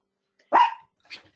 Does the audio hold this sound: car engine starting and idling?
no